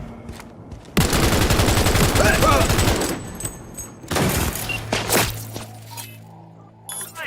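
Rapid bursts of automatic gunfire in Cyberpunk 2077 during a parade shootout, a loud sustained volley for about two seconds followed by scattered single shots, clinks and a low droning hum, with voices calling out in between.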